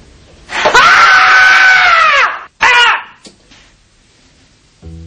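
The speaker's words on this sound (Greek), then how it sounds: "Είμαι έτοιμη να βγάλω κραυγή. Τσιριλιά!" A woman screams loudly and close by, one long sustained shriek followed by a shorter second cry, then near silence.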